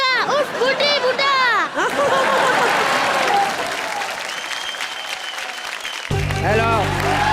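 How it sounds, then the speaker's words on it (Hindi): An audience on a Hindi comedy show greets guests with loud, continuous applause and cheering, people talk and laugh over it, and music rises at the end. "तो जोरदार तालियों से स्वागत कीजिए"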